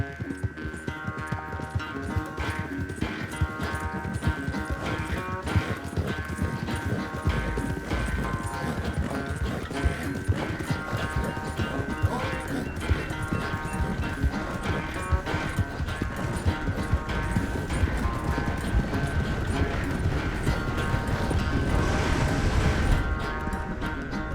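Galloping horse hooves in Red Dead Redemption 2 clip-clop in a steady, rapid rhythm throughout, loud and continuous beneath a dense layer of game music and ambience.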